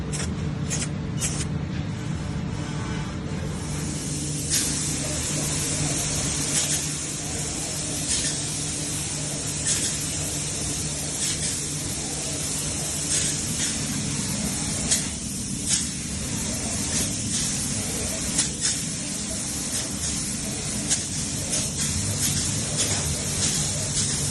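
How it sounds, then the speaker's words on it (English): A long, steady aerosol spray of brake cleaner hisses close up onto a vehicle running board, broken by brief pauses and short bursts, over a low rumbling background. "Spraying brake cleaner on it now."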